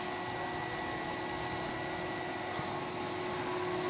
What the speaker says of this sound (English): The most powerful vacuum cleaner the world has ever seen!